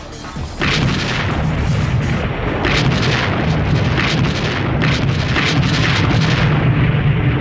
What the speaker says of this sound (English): It always began with an extended artillery barrage.